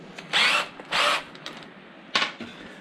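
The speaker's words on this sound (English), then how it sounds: "Now I need to drill them." A power drill boring into battery box bases: three short whirring bursts, each about a quarter second, loud and close, with quiet handling noises between them.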